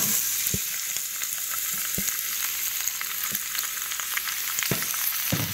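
Vegetables sizzle in hot oil in a pan with a steady, even frying hiss, broken by a few sharp clicks and taps from stirring, with no voices.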